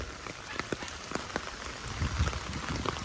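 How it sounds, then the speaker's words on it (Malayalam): Steady rain falling outside, a dense patter of drops on surfaces with scattered louder splashes, continuous and fairly close, with no talking. "പുറത്തൊക്കെ മഴ പെയ്തുകൊണ്ടിരിക്കുകയാണ്"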